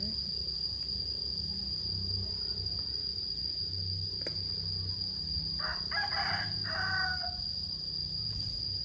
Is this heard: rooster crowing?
yes